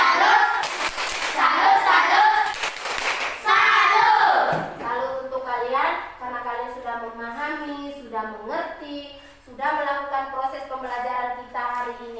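Schoolchildren in a classroom perform a quick rhythmic clapping chant, a burst of sharp claps and voices, followed by a teacher speaking alone.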